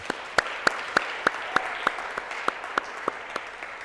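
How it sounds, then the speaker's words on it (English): A single person claps slowly and evenly, about a dozen sharp, isolated hand claps at a steady rhythm in a quiet room, marking a remembrance and action event on violence against women. "I'm going to do a little applause again"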